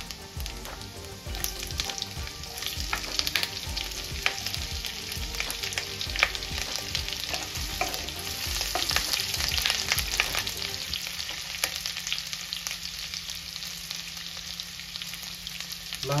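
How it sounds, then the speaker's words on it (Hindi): Chopped ginger and green chili fry in oil in a pan while an egg curry is being made, giving a steady, close sizzle with scattered crackles and light stirring throughout. "अदरक थोड़ा पका लेते हैं"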